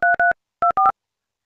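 Telephone keypad dialing tones for a phone call: four short DTMF beeps in two quick pairs, clear and close, with no talking.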